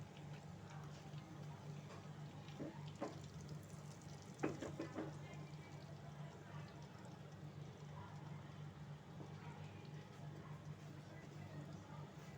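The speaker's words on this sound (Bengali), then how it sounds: "পাউরুটিগুলো একটু এপিট ওপিট একটু লাল লাল করে ভাজবো।" Slices of bread fry in a few spoonfuls of hot oil, giving a steady soft sizzle throughout with a few louder crackles and spatters mid-way, heard close and without talk.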